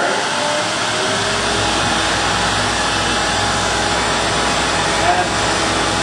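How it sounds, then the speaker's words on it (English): A power saw runs continuously with a steady, loud whirring roar and no pauses. "We'll turn the saw on"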